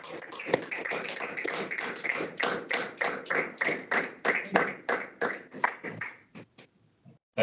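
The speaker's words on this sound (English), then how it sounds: "I think that's a round of applause" A small group claps at the end of a professional talk on underwater inspection, a sparse round of distinct, close hand claps in an uneven rhythm that thins out and stops, with a brief voice near the end.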